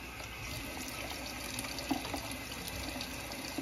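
Warm tap water runs steadily into a sink while sausage casings are rinsed out, a constant close hiss of flowing water with a few faint knocks and splashes, no talking.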